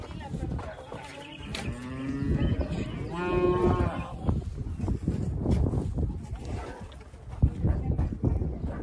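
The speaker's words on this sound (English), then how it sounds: "Here's some more cows here." Cattle moo several times nearby, low and drawn out, mixed with shuffling movement and background farm noise near Mazamitla, Mexico.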